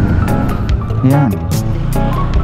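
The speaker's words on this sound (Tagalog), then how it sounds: "Grabe ang traffic, oh." Busy roadside traffic with a steady low rumble of engines and passing vehicles, a car horn-like tone rising briefly midway, while people talk over it throughout.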